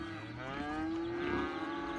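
A cow in a city-building video game gives one long, steady moo with a hollow echo, loud and close, sustained for the full stretch.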